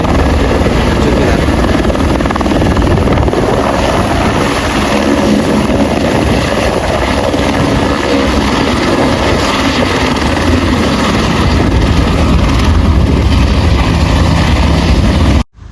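A helicopter at the Kedarnath helipad in the Himalayas, its loud, dense rotor and engine roar filling the air continuously and close by before cutting off sharply at the very end.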